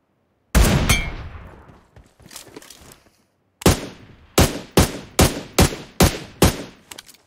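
Gunfire in PUBG Mobile rings out as sharp, echoing shots. One loud crack with a long tail and a few scattered reports are followed by a steady rhythmic run of about six evenly spaced shots, with no speech.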